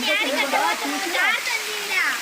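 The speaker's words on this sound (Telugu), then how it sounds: "కొంచెం పెద్దగా ఉంది వాటర్ ఫాల్స్ అంటే" A rain-swollen waterfall at Srisailam gives off a continuous rushing hiss, with high chattering voices close by over the water.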